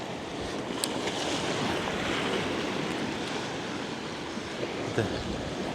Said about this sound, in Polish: Trochę się te fale uspokoiły.